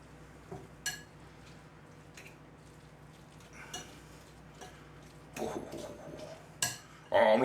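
Shin of beef and gravy being stirred in a pot, a few scattered scrapes and clinks of a utensil against the pan, fairly quiet with pauses between them.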